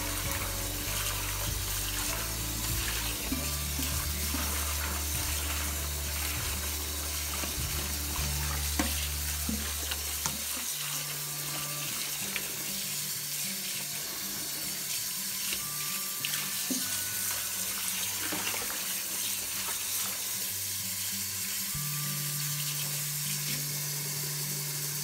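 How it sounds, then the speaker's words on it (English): Tap water running steadily into a kitchen sink while collard greens are rinsed and stirred, a continuous close splashing rush with occasional clinks and swishes of the leaves. "all of this is gonna get rinsed off and rinsed down the drain"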